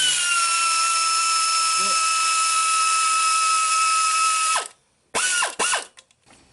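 A ratchet loosens a 10mm nut during a water pump replacement on a 2008 Lexus ES350. A steady mechanical hum gives way to several quick, close bursts of ratchet clicking.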